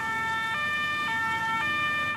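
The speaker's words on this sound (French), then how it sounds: "J'entends l'ambulance." An ambulance siren wails steadily in a two-tone pattern, alternating pitch about every half second, loud and continuous over faint road noise with no talking.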